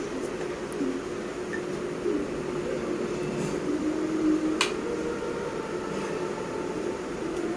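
Electric fan running close by, an even airy whoosh with a faint hum, steady throughout with a few small clicks and no talking.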